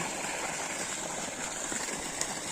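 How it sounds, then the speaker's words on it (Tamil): Irrigation water flows steadily around a mango tree on a farm, a continuous soft rushing and gurgling close by with no voices. "நம்ம வந்து மாமரத்துக்கு தண்ணி பாய்ச்சிட்ருக்குறோம்"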